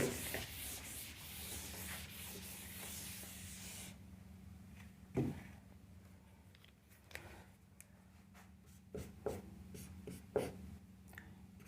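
Pen or marker writing out the third law of planetary motion in a class 9 physics lesson, a soft steady scratching and rubbing with a few sharper taps, close and quiet with no talk.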